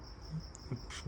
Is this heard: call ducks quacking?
no